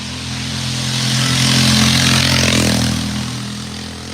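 A racing lawnmower engine driving up a hill during a hillclimb race, a steady droning roar that swells as it passes near and then fades slightly, loud with no talk.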